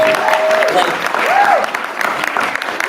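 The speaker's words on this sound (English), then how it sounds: "I cannot emphasize how much of a round of applause Megan needs" Audience applause at a senior send-off concert honoring a team captain, a steady, fairly loud wash of clapping and crowd noise with a whistle-like tone rising briefly over it.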